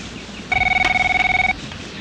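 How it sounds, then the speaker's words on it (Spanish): A telephone rings once in a single bright, warbling electronic burst of about a second, loud and close, with a quiet room before and after. "¿Cuál teléfono? Pues el que está sonando, señor."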